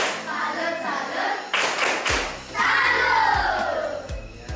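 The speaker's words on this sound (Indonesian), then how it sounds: "maka kita beri tepuk salut" A classroom of students claps out the rhythmic 'tepuk salut' cheer, with sharp, evenly spaced group claps and shouted voices, loud and close.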